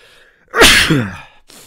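A single loud, close human sneeze, a brief inhaled buildup and then a forceful burst that trails off, followed by a short faint breath.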